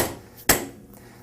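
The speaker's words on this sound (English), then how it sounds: "we need a dead blow hammer and a spanner wrench" A single sharp, close metallic strike rings out as a dead blow hammer hits a spanner wrench set in the end cap of a waterjet intensifier during seal service, followed by quiet.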